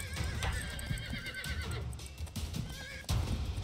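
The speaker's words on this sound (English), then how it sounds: "Now I have a horse." A horse in the video game Riders of Icarus whinnies loudly while its hooves clip-clop in a quick patter, and a second sharp neigh closes the short burst.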